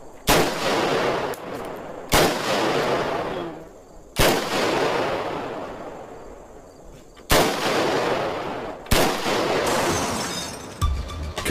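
AK-47 Kalashnikov assault rifle gunfire, with several loud, sharp reports spaced a couple of seconds apart, each followed by a long, booming echo tail.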